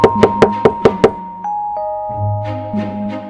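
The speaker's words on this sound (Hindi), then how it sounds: "एक साधु आया और ढोलू के घर का दरवाजा खटखटाया।" Knocking on a wooden house door in the middle of the night: six sharp, evenly spaced raps up close, then a ringing chime-like tone and a low hum take over.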